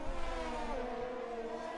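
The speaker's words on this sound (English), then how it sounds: "Wait, the safety car is coming in." Engine whine of a safety car in a racing video game at the Bahrain circuit, a steady droning pass-by with a sustained buzzing tone, moderately loud and continuous with no voices.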